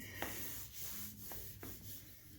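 Soft, steady hand sanding of primer: a continuous gritty rubbing hiss with a few light strokes and taps, close and fairly quiet.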